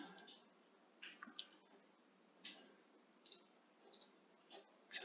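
Playing cards being shuffled at a tabletop game of Arkham Horror, with several quick bursts of crisp riffling and clicking spaced a second or so apart over a low steady background hiss.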